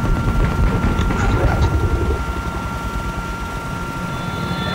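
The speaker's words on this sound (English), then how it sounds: "I got eyes on an enemy helicopter." A steady helicopter rotor drone with low thumping churn, close and loud, while people talk over it; an enemy helicopter in Battlefield 4.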